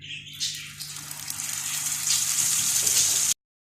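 Egg-coated pieces of fish fry in a pan over medium-low heat. A soft, steady hiss builds gradually and then cuts off abruptly.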